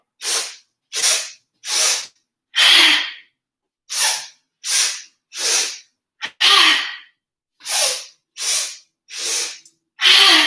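Sharp, forceful nasal inhales repeated in a steady series of about thirteen breaths, close and loud with short silent gaps between, during a yoga breathing exercise.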